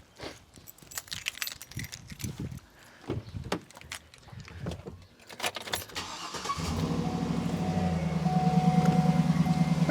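Metallic clicks and rattles come first, then a Cadillac Escalade engine cranks and catches, settling into a steady, close, low idle hum that continues to the end.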